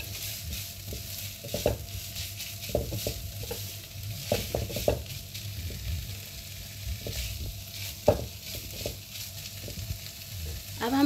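Chicken sauce for lasagna frying and sizzling in a pan, a quiet steady sizzle broken by irregular stirring scrapes and soft clinks of a utensil against the pan.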